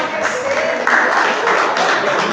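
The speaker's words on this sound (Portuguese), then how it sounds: "Uma salva de palmas" Clapping from a church congregation during a Sunday worship service, a steady dense patter of many hands that swells slightly partway through, with some voices mixed in.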